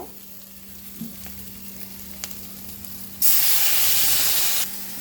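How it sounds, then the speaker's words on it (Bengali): Coriander powder and spices frying in a pan for a fish curry with new potatoes and lentil dumplings, a steady crackling sizzle that bursts into a loud hissing surge partway through, then settles back. "দিয়ে দেবো একটা চামচ ধনিয়া গুঁড়া সব কিছু একসাথে সুন্দর করে ভেজে নেব"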